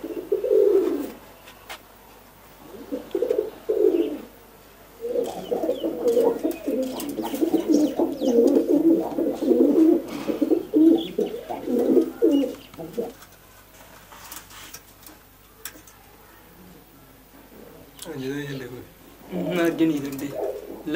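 Pigeons kept for pigeon-flying contests coo nearby in repeated throaty bursts, loud at times and then quieter, while a voice is heard talking among them.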